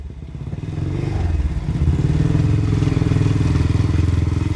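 A Seeley 499cc G50 Mark 4 racing motorcycle's single-cylinder engine runs close by, a loud steady rapid thumping beat that swells slightly as it revs, with no voices.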